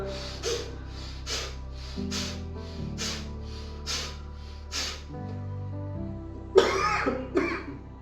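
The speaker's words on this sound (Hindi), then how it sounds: "देखो, खांसी आई" Repeated wet coughs in a steady series over a low droning tone, followed by a louder, harsher cough and throat clearing near the end.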